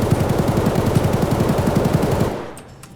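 Rapid automatic gunfire in the video game Escape from Tarkov rattles in a fast, steady burst for about two seconds, then cuts off, leaving a faint tail of quieter sounds.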